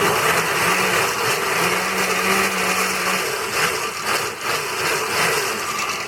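A blender whirs continuously while mixing salsa, a loud, steady motor drone close by that holds for several seconds with slight shifts in pitch as the contents churn.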